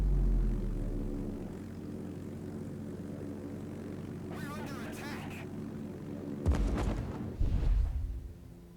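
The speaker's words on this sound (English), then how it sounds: "So we see Nork decided there to take his Cindy squadron back" Aircraft squadron engines drone steadily in the World of Warships naval video game, a continuous propeller hum with a short swooping pass in the middle and some heavier impacts toward the end.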